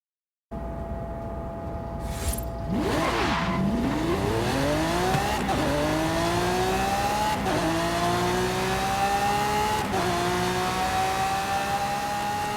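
Lamborghini Centenario engine in a racing video game, loud and constant, revving up through several gear changes with rising pitch sweeps and a brief tire squeal early on.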